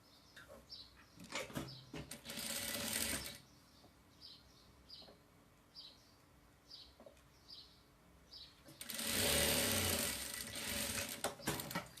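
A sewing machine stitches a seam on a baby's overalls in two loud, close bursts of rapid whirring, with quieter chirpy mechanical clicks in the pause between them.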